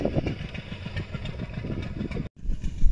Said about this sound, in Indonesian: Saya tunjukkan kepada sahabat petani mesin diesel ataupun pompa yang saya gunakan untuk kali ini